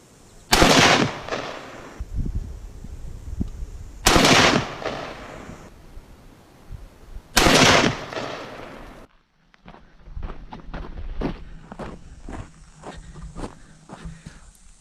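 A Savage Axis XP rifle in .308 Winchester fires three loud, sharp shots outdoors on a hot day, each spaced a few seconds apart with a short ringing decay, followed by quieter clicks and handling noises.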